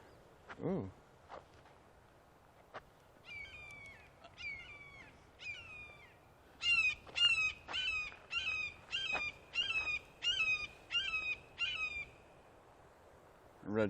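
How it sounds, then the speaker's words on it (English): Red-shouldered hawks call from overhead in a Florida outdoor setting, a series of about a dozen clear, repeated high screams that come quicker and louder toward the end, over faint background hiss and a few distant knocks. "Red-shouldered hawk right above us, and one just landed right over there."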